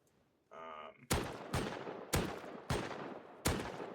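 Gunfire from a weapon in the game Rust: five loud, sharp shots spaced roughly half a second apart, each with a short decaying tail, after a brief mechanical whine.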